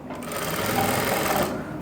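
A sewing machine stitching a half-inch inner seam in fabric for trousers with a front belt and elastic back, running in one steady continuous whir that stops just before the end, with no talking.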